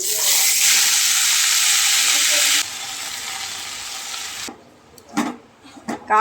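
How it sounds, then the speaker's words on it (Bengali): Water spinach (kalmi greens) frying in a pan gives a loud, dense sizzle that drops in level midway and then cuts out, followed by a few short stirring knocks and clatters. "এখানে এখন কলমি শাক ভাজছি"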